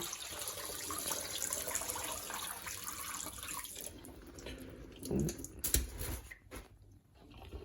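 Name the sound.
soaked item lifted out of detergent water in sink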